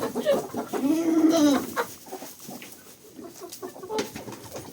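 Chickens with runny noses cluck and squawk nearby as they are herded to roost, a few drawn-out calls followed by scattered short clucks in a quiet setting.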